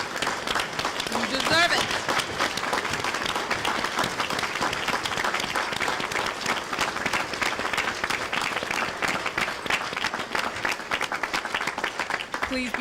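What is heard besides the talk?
standing ovation applause by college freshmen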